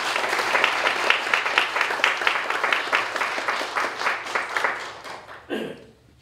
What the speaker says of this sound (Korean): 우리 뜨겁게 우리 박수로